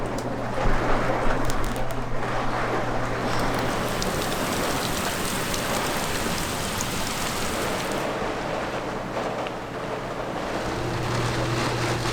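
Steady rain patters and hisses throughout, dense and continuous, with a low hum running underneath and no voices.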